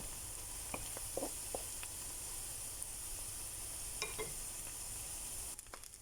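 Garlic fried rice (sinangag) loaded with plenty of garlic sizzles in a pan with a steady, close hiss, broken by a few faint clinks and scrapes of stirring, with no talking.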